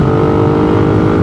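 Raider 150 motorcycle on its stock exhaust pipe revving, a loud, close, steady engine drone with a slight rise in pitch toward the end, no voices.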